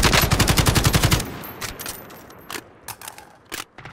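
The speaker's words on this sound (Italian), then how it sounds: "Oh, oh, mi sparano." Automatic gunfire in Call of Duty: Warzone opens with a fast, loud, evenly spaced burst lasting about a second, followed by quieter scattered single shots further away.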